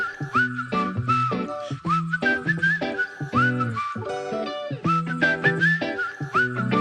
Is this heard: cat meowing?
no